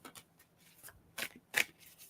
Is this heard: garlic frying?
no